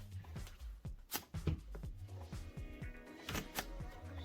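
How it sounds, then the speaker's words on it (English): A deck of Pokémon trading cards is riffle shuffled and cut on a tabletop, giving close, crisp bursts of fluttering card slaps and soft taps in quick succession, with little talk. "We get one last riffle. I'll cut it up."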